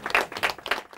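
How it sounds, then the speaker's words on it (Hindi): A live audience at a school quiz competition final claps for a team in a brief, fairly quiet burst of scattered hand claps. "तालियां हो जाए इनके लिए।"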